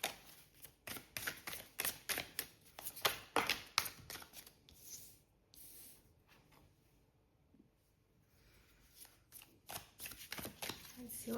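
Oracle and tarot cards being shuffled in quick riffling bursts, crisp and close, with a quieter pause in the middle before the shuffling picks up again.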